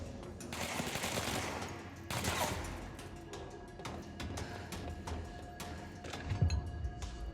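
Enemy gunfire in the game Control comes in faint, scattered bursts and single shots spread across the moment, with a thump near the end over a low ambient hum and no talking.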